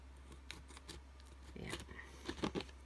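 Scissors cut paper off a sticker folder up close, a series of sharp snips that gets busier and louder toward the end over a low steady hum, with no talking.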